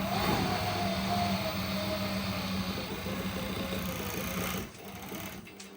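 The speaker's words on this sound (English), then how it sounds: "We'll now give a small demonstration of how the machine sews." A JUKI MO-6804S three-thread overlocker stitches with a continuous rapid mechanical whir and rattle, loud and close, then stops abruptly, leaving a quieter background hum.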